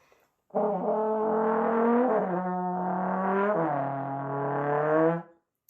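A trombone mimicking a car engine, a sustained brassy tone sliding down and back up like gears shifting, loud and continuous for about five seconds.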